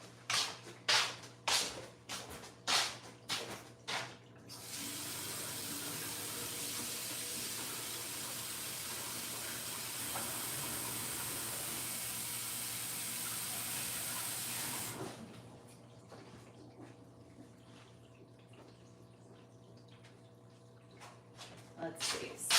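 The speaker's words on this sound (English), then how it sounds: "I'm going to wash my hands" A tap runs steadily for about ten seconds as hands are washed, a bright hissing rush of water, with clunks and handling noises before and after.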